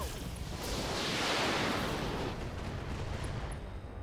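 A gunshot from the video game Flashpoint opens into a broad, booming blast that swells and rolls on for several seconds as a long, loud wash of noise.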